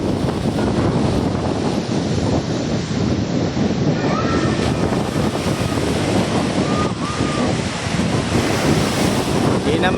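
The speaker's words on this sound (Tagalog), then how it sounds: "Ayan, malalaki na ang alon dito sa amin." Big sea waves surge and crash without pause in strong wind on the coast, loud and close, with steady wind roar buffeting the microphone throughout.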